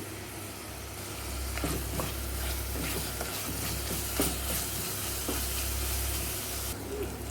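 Tomato and coriander powder frying in a pot for mutton pulao, giving a steady close sizzle with scattered clicks and stirring scrapes throughout, no voices.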